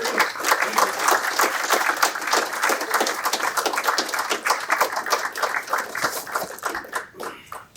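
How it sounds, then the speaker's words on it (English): An audience claps steadily for several seconds to welcome a speaker at a literary conversation event, dense and close, with the applause thinning out toward the end. "Please join me in a round of applause"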